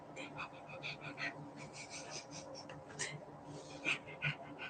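A puppy whimpers and yips softly in short, repeated high cries indoors, mixed with a person speaking nearby.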